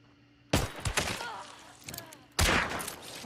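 Gunfire in the video game Hunt: Showdown, with two loud, close blasts about two seconds apart, each followed by a short rattling decay, and no talking over them.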